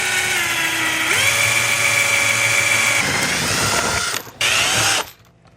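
A power drill fitted with a 1/4-inch bit bores holes in a Dell XPS case top panel, whining steadily and rising in pitch as it bites, then stopping abruptly with a short final burst.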